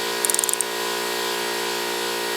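A hand ratchet with a half-inch socket turns a spindle bolt on a Cub Cadet LT1045 mower deck, a quick run of about eight sharp clicks near the start followed by a steady low hum.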